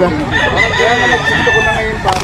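Stag roosters crowing at a gamefowl market in Grotto, Bulacan, loud and close, with long wavering crows overlapping one another and someone talking over them.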